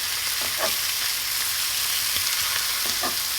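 Salami and pepperoni frying on a griddle alongside bacon and ham, their fat rendering in a steady hissing sizzle, with a few soft spatula taps.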